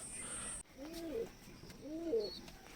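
Yellow-eyed pigeons in a loft give two soft, rising-falling coos, close by, over faint background rustle and no speech.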